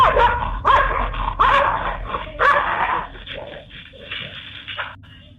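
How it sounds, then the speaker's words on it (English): A dog nearby barks repeatedly in loud, uneven bursts, mixing deep woofs with higher yips and whimpers, over low background rumble. "A dog nearby starts barking at it"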